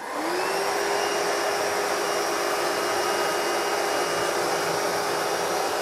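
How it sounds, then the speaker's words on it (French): An Ecovacs Deebot Pro 930 robot vacuum sucks up spilled salt along a baseboard, giving off a steady, loud, even whine of motor and suction with a high tonal hum that does not change the whole time. No one speaks. "on va voir à quelle distance de la plainte le balai est en mesure d'aller aspirer"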